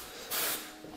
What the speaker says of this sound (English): Oh, you're spraying ogres.